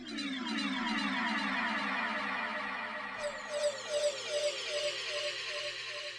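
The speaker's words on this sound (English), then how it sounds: "also from the Korg Wave Station. This is the Splashdown Performance" Korg Wave Station Splashdown Performance synth patch, a bright shimmering texture of rapidly repeating descending sweeps that settles into a pulsing, bubbly rhythm, played alone.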